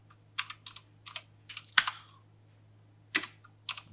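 Quick bursts of typing on a computer keyboard, clustered keystroke clicks with short pauses and one louder key press, fairly close and clear over a low steady hum, with no speech.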